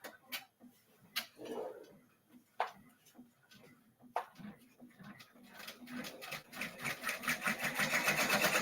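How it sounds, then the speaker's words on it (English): A sewing machine stitches a tree skirt. Sparse ticking clicks come first, then a fast, steady rattle builds toward the end, with a voice speaking faintly in the background. "Stitching in the background now"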